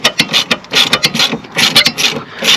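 A socket wrench ratchets in quick, uneven bursts of sharp clicking, close and loud, loosening the long center nut on a Peugeot 407 front strut.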